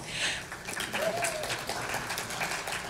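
An audience claps at a paralegal associations' annual meeting and awards ceremony, a dense, moderately loud wash of applause that stays steady throughout, with a voice faintly audible beneath it.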